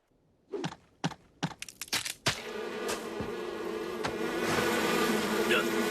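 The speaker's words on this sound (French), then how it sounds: "Je suis tombé sur un énorme nid de guêpes dans ma chambre." Insect buzzing from a huge wasp nest in a bedroom, preceded by a few sharp knocks and crackles, then a steady, dense drone that builds slightly louder and stays close.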